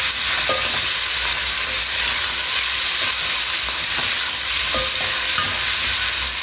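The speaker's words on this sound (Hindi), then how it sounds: "वो भी मैंने बोनलेस लिया था 300 ग्राम तकरीबन। इसको अच्छे से फ्राई करेंगे" About 300 grams of boneless chicken fries loudly in a pan for chicken corn soup, producing a dense, steady hissing sizzle close up with a few light stirring taps throughout.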